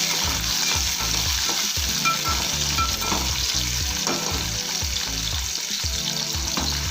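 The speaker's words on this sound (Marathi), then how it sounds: "चार ते पाच मिनटं आपण कांदा तेलामध्ये परतून घ्यायचा आहे" Sliced onions sauté in hot oil for a Maharashtrian dry prawn curry, a loud, continuous close sizzle interrupted by rhythmic stirring scrapes.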